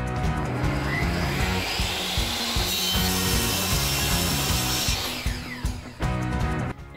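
Hand sawing through the side of a wooden board while building a child's chair, a loud, steady back-and-forth rasp of strokes up close, slowing and breaking up near the end.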